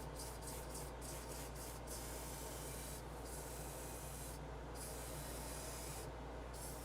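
Vallejo Metal Color steel paint hisses steadily from an airbrush onto a miniature model, a faint continuous spray broken by a few short pauses and stops.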